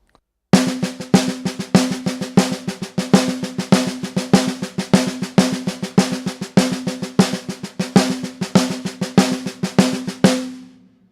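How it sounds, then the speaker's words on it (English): Steady sticking on a practice pad, alternating measures of regular and inverted paradiddles, a long run of crisp, even strokes with regular accents, close and alone, ending abruptly. "play a measure of the regular paradiddle and then a measure of the inversion"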